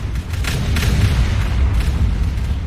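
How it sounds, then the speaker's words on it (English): Artillery in the Factorio video game keeps up a dense, continuous barrage of deep booms and rumbling blasts that merge into one loud, sustained roar with no clear gaps between shots. "Watch the artillery go nuts"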